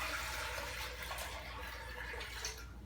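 Nine cups of tap water poured into a container for a brandy slush, a steady rushing wash of water running throughout, with a brief sharper splash right at the end.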